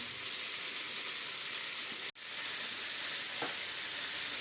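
Pork cheeks sizzle and fry in a pan over high heat, a steady, close, bright hiss broken by one brief dropout, with a faint stir or scrape partway through.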